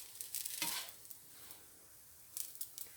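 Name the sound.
banana oat pancakes frying in pan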